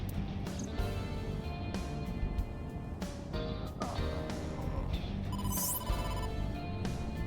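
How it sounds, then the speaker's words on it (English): A phone rings for an incoming call in the video game AI The Somnium Files, a steady repeating electronic ringtone over a continuous game backdrop, loud and close with no talking. "Date, incoming call from the boss."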